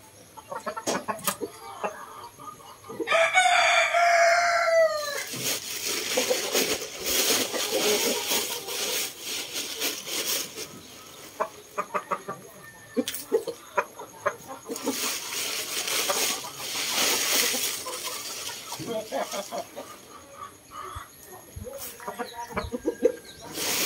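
Hungry chickens in a coop being fed cracked corn, with loud close clucking and squawking bursts, a possible rooster crow near the start, and scattered clicks and rustles throughout.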